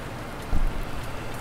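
Rain falls in the video game Farming Simulator 19, a steady broadband hiss with a brief low thump partway through and no talking.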